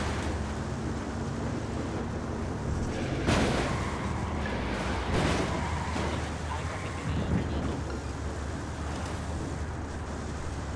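Gunfire in the Ghost Recon Wildlands video game: a few sharp, loud shots crack out at irregular intervals over a steady, dense background rumble.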